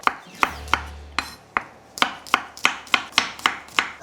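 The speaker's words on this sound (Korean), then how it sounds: "통마늘 열토를요, 편마늘로 썰어 준비해주세요" Whole garlic cloves sliced with a knife on a cutting board, about a dozen crisp, evenly spaced chops close by, quickening toward the end, with no talking.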